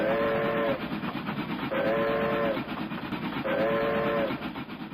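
A passing train sounds three long, steady whistle blasts at regular intervals over a continuous loud rumble of rail cars rolling along the track.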